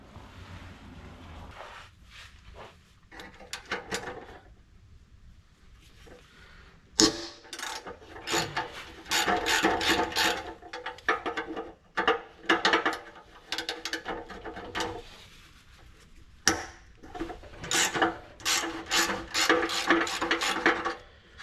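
A ratchet bolts a new exhaust onto an EF Ford Fairmont. Rapid clicking runs in several bursts of a few seconds each with short pauses between, close and fairly loud, and no one talks.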